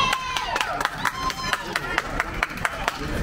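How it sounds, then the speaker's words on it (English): Crowd at a beach party and Hawaiian shirt contest clapping for a contestant, a fairly sparse run of distinct claps with voices talking and calling over them. "You guys give us a round of applause, all right?"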